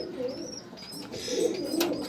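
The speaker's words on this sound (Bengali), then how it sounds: "এই যে পায়রাগুলো" Pigeons kept in a home cage coo in soft, throaty rolls close by, with faint chirps and a thin whistle-like tone above, the calls swelling toward the end.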